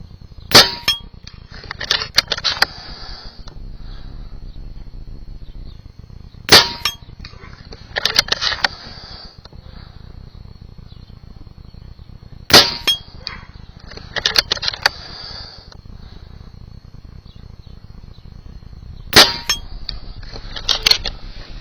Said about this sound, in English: clip that I took of shooting my 8-inch gong over 100 yards dead center